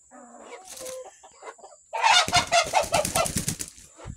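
A rooster clucks and calls close by, starting with quiet scattered clucks, then breaking into a loud burst of rapid clucking and wing-flapping-like rustle.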